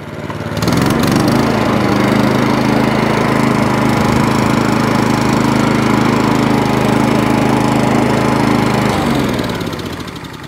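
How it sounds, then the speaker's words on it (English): An Atco hover mower refitted with a Honda engine runs steadily at close range, a loud continuous engine drone and hum that starts abruptly, holds for around eight seconds and then winds down toward the end. "that's the Atco hover mower, now all up and running and hovering and doing what it should do"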